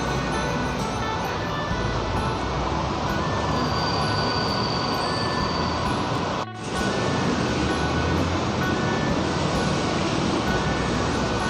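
A Bangkok MRT electric train rushes past at night with a steady loud roar of wheels on rails, a faint squeal high above, sustained throughout with a brief dip midway.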